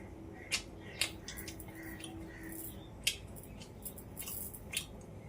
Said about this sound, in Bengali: একটা পকোড়া খেয়ে দেখি